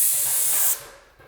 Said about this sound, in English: So let me spray right here.